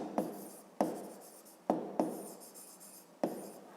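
A pen writes on paper while working a fifth-grade maths exercise, making about five short scratchy bursts of strokes, each one quickly fading, in a quiet room at close range.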